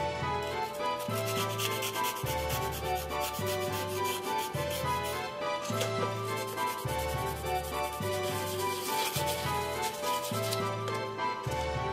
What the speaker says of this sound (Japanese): 次に定規の両端の部分をヤスリで削っていきます。